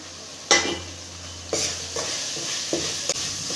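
Onion and green chilli sautéing with masala spice powders in a pan, a soft sizzle under repeated scraping and stirring strokes that land every second or so, close and steady, with light clatter of utensil on metal.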